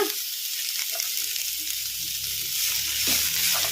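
Garlic hitting mint leaves in a pan with the stove just switched off, giving a soft steady sizzle of frying with faint stirring scrapes, no voices.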